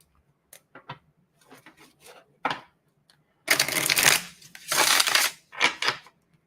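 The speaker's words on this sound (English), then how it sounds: "I'm going to start shuffling for Sandy and see if she says anything." A deck of cards is shuffled in several bursts, with light scattered riffles and taps first, then two loud, dense riffle shuffles and a shorter final one, all up close with no talking.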